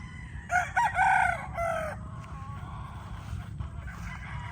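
Black Gilmore gamecock stags tethered in a row outdoors, one crowing loudly and nearby in a couple of drawn-out calls over steady background noise, with fainter crowing and clucks after.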